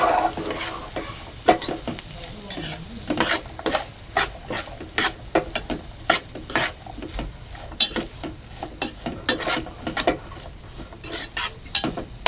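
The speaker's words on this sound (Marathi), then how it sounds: "आणि परत परतून घेऊ." Green chili pieces stir-fried in a pan for a chili bhaji, with steady sizzling under frequent sharp scrapes and clacks of a spatula, close and fairly loud, no voices.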